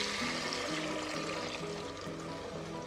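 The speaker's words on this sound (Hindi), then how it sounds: "और अब यहाँ पर इस्तेमाल करना है पानी।" Water poured into a pot of black chickpea curry, a steady continuous splashing stream that holds at an even level throughout.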